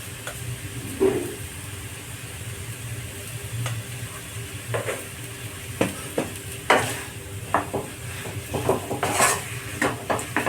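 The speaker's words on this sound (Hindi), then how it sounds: "चला चला के आप इसको फ्राई करेंगे" Spiced masala for stuffed capsicum fries with a soft, steady sizzle while a spoon scrapes and clinks against the pan in irregular strokes, getting busier toward the end, with no voices.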